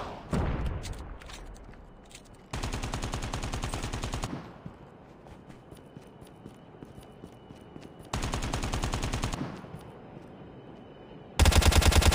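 Automatic gunfire in Call of Duty Mobile battle royale comes in three loud sustained bursts separated by quieter stretches of scattered shots and ambient game noise.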